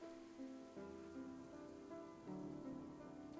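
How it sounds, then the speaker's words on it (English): Rain falls in a video game scene, a soft, faint steady patter under a quiet sustained musical tone, with no voices. "We stand in the rain"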